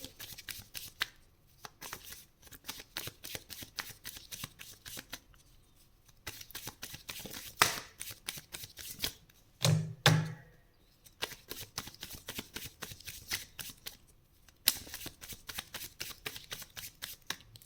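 Tarot cards shuffled by hand, a rapid close riffling patter repeated in bursts with short pauses and a couple of louder taps, heard alone without talk.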